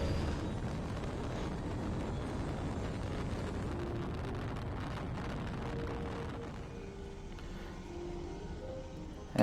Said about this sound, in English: And then the rocket takes off.